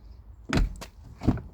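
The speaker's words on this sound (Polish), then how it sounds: "plastik się w nich wyślizguje i się drzwi same zamykają" A Honda Accord door with worn plastic check-strap limiters swings shut on its own, giving two close thumps and knocks about a second apart, fairly near and loud, with no talk.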